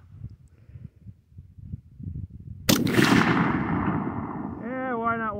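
A single loud DPMS Panther Arms AR-.308 rifle shot cracks out after a few seconds of low background noise, followed by a long decaying echo outdoors.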